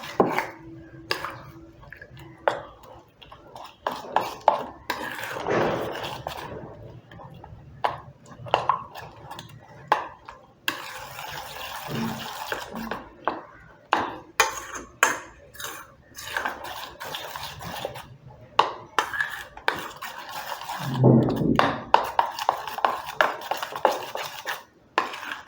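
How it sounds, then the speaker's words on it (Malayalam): Beetroot being stirred into loose achappam rice batter in a bowl, with a steady run of wet scraping, clinking and sloshing from a spoon against the bowl, at close range and with no talking. "ഈ മാവിലോട്ട് ബീറ്റ്റൂട്ട് നമുക്കിതൊന്ന് മിക്സ് ചെയ്യാം."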